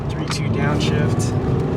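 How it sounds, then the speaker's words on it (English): A Toyota GR86/Subaru BRZ sports car engine drops through a 3-2 downshift, its steady drone filling the cabin with a voice over it throughout. "3-2 downshift."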